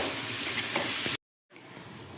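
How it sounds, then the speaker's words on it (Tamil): Ginger garlic paste sizzles loudly while being sautéed in a pan for a Tamil-style crab curry. The frying hiss cuts out abruptly for a moment, then returns softer and steadier. "இஞ்சி பூண்டு பேஸ்ட் போட்டு வதக்கிக்கலாம்."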